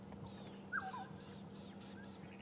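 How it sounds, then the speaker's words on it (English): A black-headed oriole gives a single brief liquid whistled call amid quiet outdoor ambience on a morning safari drive, faint and somewhat distant against a low steady background hum. "I can hear a black-headed oriole calling."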